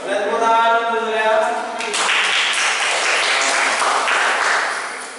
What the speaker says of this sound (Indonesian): Boleh tepuk tangan dulu ya.